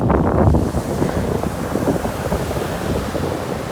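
Ocean surf and strong wind on a North Carolina beach, a loud close rush of breaking waves buffeted by wind noise against the microphone, surging at the start then settling into a steady roar.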